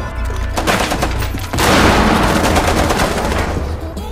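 Rapid gunfire in Rainbow Six Siege, loud and dense bursts of shots that blend into a continuous roar of fire, close and sustained throughout without speech.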